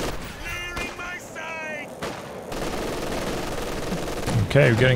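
Gunfire and explosions rumble through a Company of Heroes 2 World War II strategy match, scattered shots and distant blasts running steadily in the background while a commentator talks over them.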